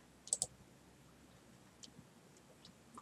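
Computer mouse clicks on a website map page, a quick double click near the start followed by a few fainter single clicks, close and quiet with no talking.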